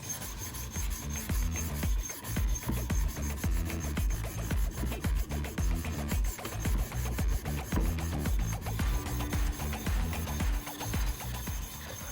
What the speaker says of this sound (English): I always finish hand sanding with long strokes from end to end